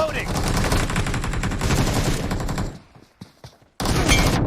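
Rapid automatic gunfire in a multiplayer shooter video game, loud and dense for about two and a half seconds, then a pause with a few scattered sounds before another burst resumes.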